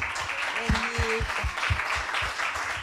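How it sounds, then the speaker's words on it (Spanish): A church congregation applauds at a Saturday service, a wash of clapping over a steady rhythmic beat of strong low thumps about twice per second, with a brief tonal voice or instrument note early on. "Dale un aplauso fuerte al Señor"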